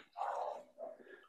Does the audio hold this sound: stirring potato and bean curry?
no